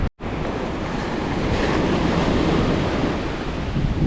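Surf breaking on a beach, a loud continuous wash of churning water and wind that starts abruptly after a moment of silence and rolls on steadily.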